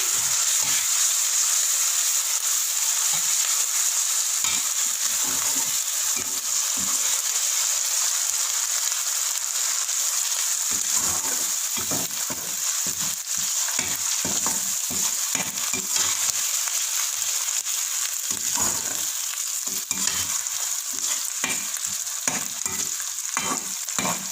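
Steady, loud sizzling of garlic-ginger paste frying in a hot pan, broken by frequent scraping and stirring noises throughout.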